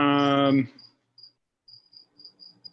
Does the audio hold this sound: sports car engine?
no